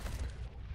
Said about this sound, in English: Nade comes in at long.